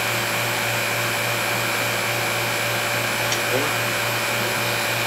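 A vacuum pump purging extract runs with a steady, unbroken mechanical hum and hiss at constant loudness, a faint brief squeak passing midway.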